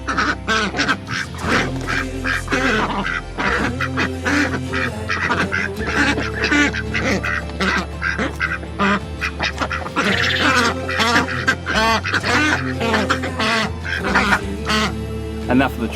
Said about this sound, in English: we're being joined by some ducks